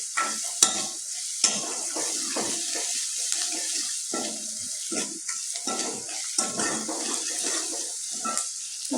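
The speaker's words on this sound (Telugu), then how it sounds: "మంచిగా ఫ్రై చేసుకోవాలి." Cashews fry to golden brown in tempering oil for rava idli, a loud close sizzle broken by repeated scraping stirs and occasional sharp taps of the spoon against the pan.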